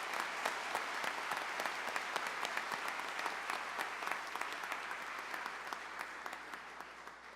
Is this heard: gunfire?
no